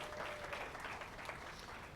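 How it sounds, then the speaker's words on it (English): Faint, steady applause from a seminar audience on persuasive conversation and negotiation, a dense wash of clapping heard alone and at a distance. "Let's give a giant round of applause for TJ Cosgrove."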